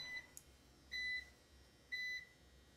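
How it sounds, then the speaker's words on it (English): Three short electronic beeps from a NAS running on UPS battery power, spaced about a second apart, each a steady high tone, over a faint background hum. "NAS is currently beeping because it's on battery"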